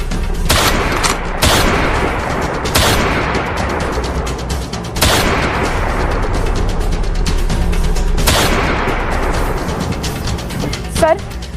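Gunfire in a dramatized police standoff, loud bursts of shots recurring at irregular intervals with booming reports between steady crackle, close and dominant throughout.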